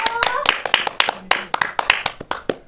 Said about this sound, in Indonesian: Aplaus dulu anak-anakku.